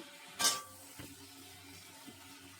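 Chopped tomatoes tip into a hot karahi for a pigeon meat curry, giving one short, close sizzling splash followed by a couple of faint clinks over a low, quiet background.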